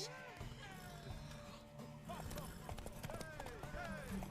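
Horse hooves galloping in The Witcher 3, a steady clip-clop under game music and voices talking throughout.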